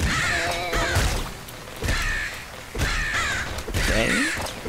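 Crows in the Nuclear Throne video game caw loudly and close, four harsh calls in a row spaced about a second apart, with no talk over them.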